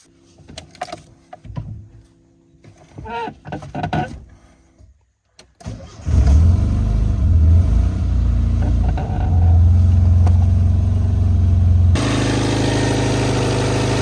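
A car with a four-stage LPG (GBO-4) gas system under home repair starts after some clattering and shuffling, then settles into a loud, steady warm-up idle that holds close by for several seconds.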